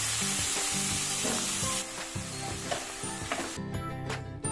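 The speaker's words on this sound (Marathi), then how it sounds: "स्वच्छ निवडून धुवून घेतलेले मशरूम यामध्ये आपल्याला घालायचे आहे" Washed mushrooms hit hot oil in a pan already seasoned with turmeric and red chilli, giving a steady, loud sizzle with scraping stir strokes and a brighter hiss partway through.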